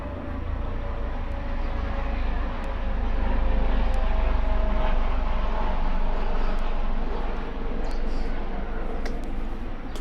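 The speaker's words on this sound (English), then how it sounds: "We got a helicopter kind of going by." A low, rumbling helicopter engine drones steadily in the distance, swelling slightly as it passes overhead, with faint indoor clatter over it.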